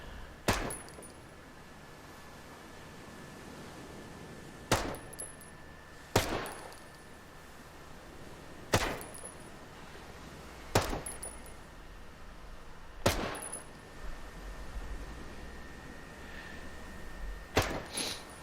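Echelon SMG gunfire in Ghost Recon Breakpoint: roughly seven sharp single shots at fairly even intervals of a couple of seconds, crisp but not loud, over a low steady background with no talk.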